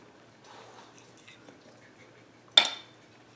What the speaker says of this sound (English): I'm gonna go ahead and cut into this, give it a try for you.